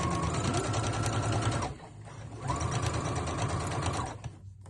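Close and loud, a sewing machine top stitches around the top of a fabric treat jar koozie made from quilt scraps, running in two steady whirring passes separated by a short pause.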